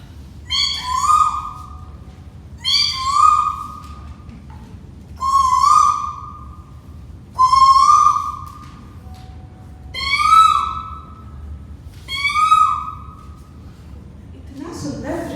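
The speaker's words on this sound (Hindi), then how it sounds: "चारों ओर मनमोहक पक्षियों की आवाजें" Bird calls ring out around a garden, with six bright, whistled bursts that repeat at a steady pace over a soft, constant background murmur.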